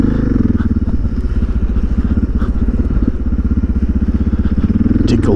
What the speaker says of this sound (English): we're gonna pull the clutch in and test the throttle when we get under this bridge here